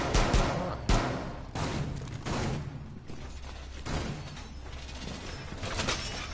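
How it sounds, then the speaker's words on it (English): Razor wire unrolling in Rainbow Six Siege: a scraping, metallic rattle with sharp transient clacks and thuds, moderately loud, amid busy in-game mechanical noise and gunfire-like bursts. "Unrolling razor wire."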